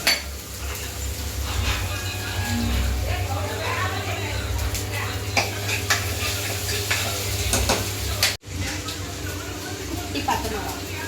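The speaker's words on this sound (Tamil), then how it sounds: "அது பொரிஞ்ச அப்புறமா இஞ்சி பூண்டு பேஸ்ட்டு போட்டுட்டு ஒரு கலரிக்கோங்க" Whole spices and ginger garlic paste sizzle in a hot pan while a spoon stirs and scrapes, giving steady frying with intermittent metallic clinks close by.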